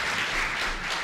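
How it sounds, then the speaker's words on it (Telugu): A short burst of audience clapping, a dense, even wash of many hands, close and fairly loud. "అందరు చప్పట్లు కొట్టాలి"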